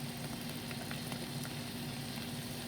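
Cilantro and sweet mini peppers hitting a hot frying pan of pearl onion gisa, a steady, moderately faint sizzle with a low hum underneath throughout, no talking.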